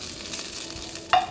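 Scallion and ginger stir-frying in hot oil in a wok, a steady close sizzle with stirring and a brief sharp clink of a utensil near the end.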